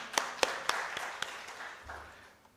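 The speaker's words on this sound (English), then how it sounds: "Can we give Dr. another clap, kindly?" Scattered hand claps from a small audience at a scientific conference, a handful of sharp separate claps spaced out and thinning, with low murmuring underneath.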